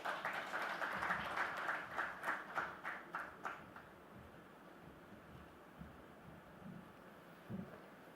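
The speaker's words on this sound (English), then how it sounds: "A huge round of applause" Conference audience clapping after the Chief Minister of Delhi's address at a business conclave, a fairly faint, distant burst of applause that thins out and fades after a few seconds into quiet room noise.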